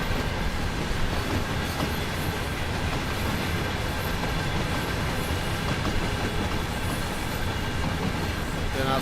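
A DB class 363 locomotive in red Deutsche Bahn livery rolls along in Train Sim World 4, with a continuous dense rumble and faint rhythmic clickety-clack of wheels on rail, steady and close throughout.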